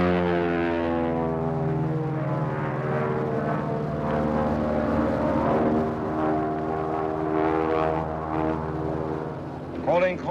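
A French air taxi aeroplane in flight produces a steady, loud propeller-engine drone with strong harmonic tones that stays constant throughout and swells slightly near the end, with no talking.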